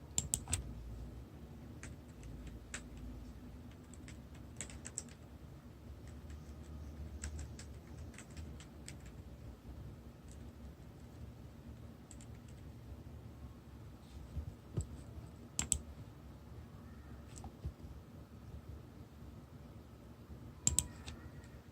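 Text being typed on a computer keyboard while making a cherry blossom festival poster in Photoshop: faint, sparse key clicks in irregular bursts over a quiet low hum, with a few louder taps scattered through and no talking.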